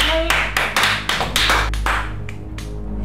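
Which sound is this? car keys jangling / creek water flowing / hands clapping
hands clapping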